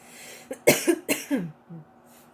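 A short, close fit of several quick coughs in a row, then quiet.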